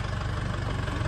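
A tractor engine idles steadily on a kiwifruit orchard in New Zealand, a low, even rumble with a regular throb, close and continuous, with no voices over it.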